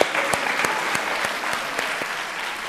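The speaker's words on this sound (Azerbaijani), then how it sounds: "Alqışlayaq Cavanşir müəllimi." A studio audience gives applause to a teacher, Cavanşir müəllim: a steady, fairly close wash of many hands clapping, with individual sharp claps standing out, lasting a few seconds without speech.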